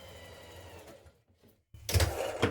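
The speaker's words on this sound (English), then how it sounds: "So back tack, sew down that side to your next notch or marking." A sewing machine stitching down a pocket seam, a short quiet whirr, a pause, then a louder, faster burst of stitching.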